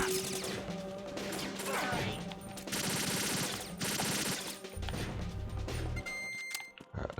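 AK rifle fire in the video game Metal Gear Solid 2: rapid automatic bursts and crashing impacts, loud and dense, with short pauses between volleys and a final scattering of shots against game noise.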